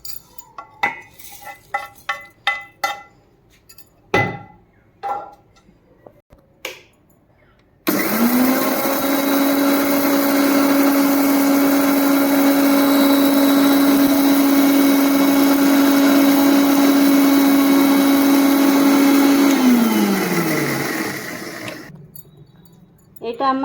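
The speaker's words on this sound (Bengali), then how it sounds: "এবার আমি এই মশলাটা একটা মিক্সার গ্রাইন্ডার মেশিনের উপর নিয়েছি।" An electric mixer grinder powders spices for a homemade hog plum pickle: after scattered clinks and knocks, the motor kicks in with a loud, steady high whine for about thirteen seconds, then winds down and stops.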